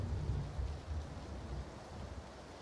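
Steady rain falls in the PUBG battle royale game, a dense wash of hiss with low rumbling underneath, continuous and fairly loud throughout with no voices.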